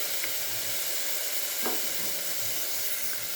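Steady sizzling and hissing of chopped vegetables frying in a hot pan for wheat rava vegetable biryani, with a few soft stirring scrapes and no voices.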